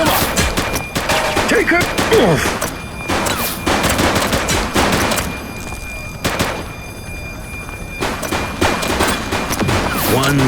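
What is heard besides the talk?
gunfire in a police video game shootout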